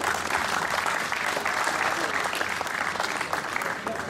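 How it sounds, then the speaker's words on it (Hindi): Crowd applauding at a cricket tournament prize ceremony, a loud, sustained burst of many hands clapping at once, steady and close, with a voice faintly audible beneath. "तालियां जी को"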